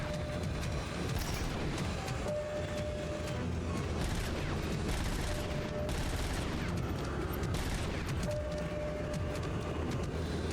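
Gunfire from Robocop: Rogue City, a dense, steady barrage of shots with booming impacts running loud and continuous throughout, layered over constant game noise.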